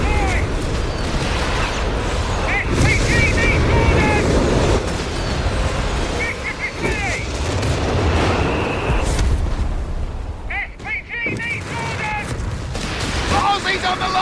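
Company of Heroes 3 battlefield combat with artillery fire: repeated heavy booms and dense gunfire rumbling continuously, loud and close, with shouted voices mixed in throughout.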